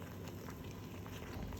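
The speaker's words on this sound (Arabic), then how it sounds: "هلا بلش يغلي مثل ما شايفين." Liquid in a pot on the stove comes to a boil with a soft, steady bubbling and gentle crackle, faint and continuous with no voices.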